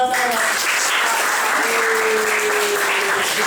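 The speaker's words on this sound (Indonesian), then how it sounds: "Tepuk tangan buat saya." Steady clapping from a class of students in an Indonesian high school economics lesson, continuous and fairly loud, with a faint voice and tonal hum beneath.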